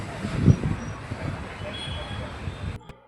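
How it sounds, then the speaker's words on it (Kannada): A train rolls slowly through Bangalore near Majestic toward Yeshwantpur station, heard from on board as a steady low rumble of wheels and carriage noise with a faint squeal. "ನಮ್ಮ ಟ್ರೈನ್ ಇವಾಗ ನಿಧಾನವಾಗಿ ನೋಡಿ ಕ್ರಾಸ್ ಆಗ್ತಾಯಿದೆ ನೋಡಿ"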